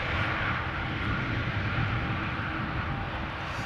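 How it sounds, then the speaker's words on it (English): An Air Canada airliner arriving from Montreal at Schiphol Airport fills the air with a broad, steady jet rumble and roar. The noise sounds moderately distant and continuous, with no talk over it. "Air Canada Flight 900 having arrived from Montreal"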